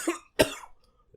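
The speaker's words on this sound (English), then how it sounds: "I was laughing, but I was also coughing." Two sharp, close coughs in quick succession, the second harder and followed by a short rasping tail, then near silence.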